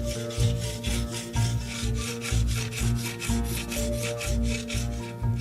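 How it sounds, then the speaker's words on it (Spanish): Rhythmic back-and-forth rasping of a row of stone beads being sanded on a sandstone slab, steady strokes about twice a second, close and continuous with no talking. "Y ahora lijamos en la losa de arenisca toda esta fila de piedras juntas."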